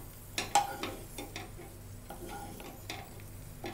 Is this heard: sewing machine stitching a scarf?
no